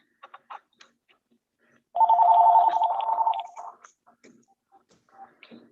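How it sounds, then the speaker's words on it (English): An office telephone in a meeting room rings with a trilling electronic tone for about a second and a half in the middle of a quiet stretch, with faint clicks and shuffling before and after. "Trying to get these phones to stop ringing."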